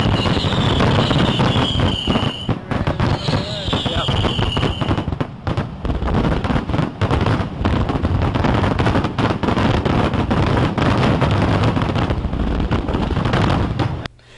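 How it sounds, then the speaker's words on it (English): A loud, dense barrage of fireworks sound effect, with crackling bursts and booming explosions packed continuously together, and a couple of whistling rises near the start before the volley ends abruptly. "It's always a good time for fireworks."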